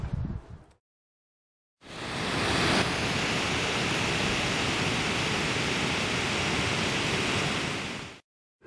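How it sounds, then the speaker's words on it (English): Garden hose spraying water across a lawn, a steady broad hiss that starts after a short pause and runs evenly for several seconds before cutting off. "I need to water this lawn now."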